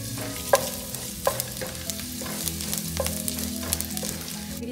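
Chopped garlic and ginger sizzling in hot oil with cinnamon and a bay leaf, a soft continuous frying hiss with several distinct stirring clanks from a utensil against the pan.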